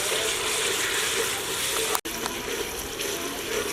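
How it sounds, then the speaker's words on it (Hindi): Finely chopped tomatoes sizzle in a pan with ginger-garlic paste for chicken karahi, a steady close hiss and bubbling with a brief cut of silence midway. "अब इस मौके पे बारीक बारीक कटे हुए टमाटर हैं मेरे पास, ये शामिल कर लेंगे और इनका पेस्ट तैयार होने तक भून लेंगे"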